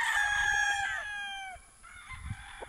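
A broodcock rooster at a game farm in Jagna, Bohol crows once, close and clear, the call falling away before a few low clucks.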